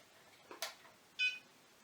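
An iOptron Smart EQ telescope mount powers on with a brief, faint electronic beep, preceded by a soft click, in an otherwise quiet setting.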